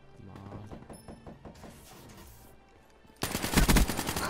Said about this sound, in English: Because I was getting shot at.